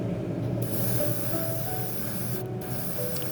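Steady spray-can hiss runs continuously while painting a Tamiya Porsche 911 GT3 RS model car body, close and fairly loud, with a low hum underneath and a brief drop in the hiss near the middle.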